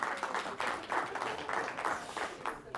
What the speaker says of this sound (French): on peut l'applaudir d'ailleurs